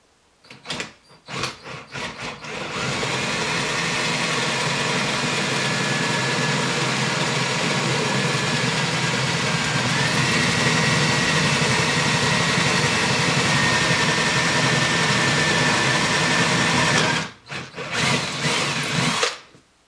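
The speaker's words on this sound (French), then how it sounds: "là je le reperce en 4 pour favoriser la lubrification" Power drill runs steadily for about fifteen seconds, boring a 4 mm lubrication hole in a Peugeot 103 moped engine case, loud and close, with brief handling clicks and bumps before and after.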